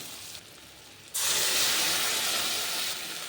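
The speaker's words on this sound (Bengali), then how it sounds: "আমাদের পেঁয়াজ ভাজা হয়ে যাচ্ছে এবার এর মধ্যে আমি ওই বাটা মশলাটা দিয়ে দেব" Ground spice paste dropped into onions frying in a pan for prawn curry: a quieter sizzle jumps into a loud, close, hissing surge of frying that holds steady.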